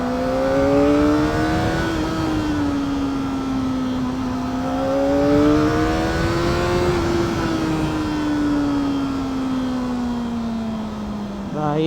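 A superbike engine revs steadily up close, its pitch rising and falling in smooth sweeps as the throttle is worked, with faint talk underneath.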